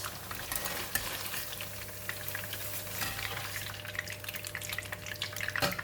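Tofu frying in oil in a pan for a stir fry, a steady crackling sizzle with scattered pops and light utensil scrapes, no voices.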